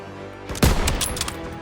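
A burst of gunfire in Call of Duty WWII, a sharp loud blast followed by rapid echoing shots, over a low steady background hum.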